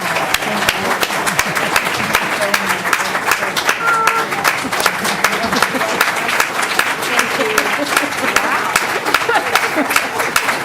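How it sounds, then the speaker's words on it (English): A crowd at a regular board meeting gives the Board of Trustees a round of applause, dense and loud clapping that runs without a break for about ten seconds, with voices mixed in. "please help me give our Board of Trustees a round of applause"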